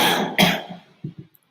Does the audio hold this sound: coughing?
yes